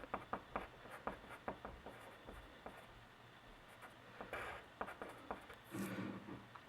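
A pen writes a math formula on paper in a quiet room, producing a series of close, faint scratchy strokes and taps with brief pauses between them.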